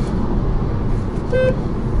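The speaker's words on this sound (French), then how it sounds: "Ah ouais, il est au milieu le klaxon." A single brief, high electronic horn toot from a Renault Twingo Electric sounds once over a loud steady background rumble.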